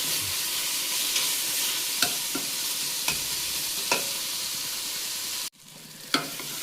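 Tomatoes fry in a pot for biryani with a steady close sizzle. A spoon knocks against the pot several times while stirring, and there is a brief dip before the frying resumes.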